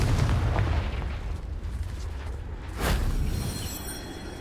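A Confringo fire spell explodes in the Hogwarts Legacy video game: a loud, rumbling burst of booming blasts with crackling debris, a second sharp boom near the end, heard alone without talk.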